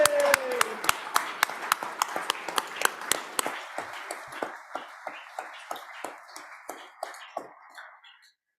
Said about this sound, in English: So just want to give a round of applause